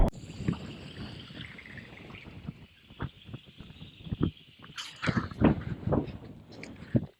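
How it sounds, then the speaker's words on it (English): Strong wind buffeting the microphone while riding a jetski, with broadband rushing noise throughout and bursts of louder gusts and thumps toward the end. "it's super windy"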